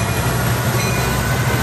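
Coaster commuter train with engine 3000 rolling past at Santa Fe Depot in San Diego, a loud close rumble of wheels and rail noise, brief and continuous, with no voices.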